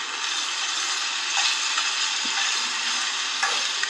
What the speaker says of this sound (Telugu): ఇప్పుడు ఇందులో కొంచెం సాల్ట్ వేసుకొని ఒకసారి బాగా కలుపుకోవాలి.